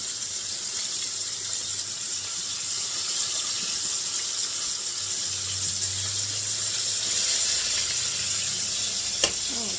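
Drained potato water pours steadily into a pot on the stove, a continuous close splashing, hissing stream with no talk.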